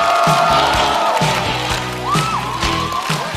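Studio crowd at a stand-up comedy show cheering and whooping loudly for a comedian's entrance, a dense sustained roar over a steady music beat.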